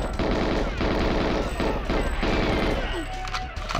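Rapid automatic gunfire from GoldenEye 007 on Xbox Series X rattles in loud, continuous bursts, with short breaks between volleys and a scrappier tail of shots at the end.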